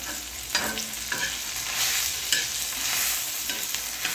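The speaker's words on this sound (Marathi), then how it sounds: "आता आपल्याला हा कांदा पण तेलामध्ये परतून घ्यायचा आहे" Chopped onion sizzles in hot oil as it is stirred, a constant close frying hiss broken by a few scraping spoon strokes against the pan.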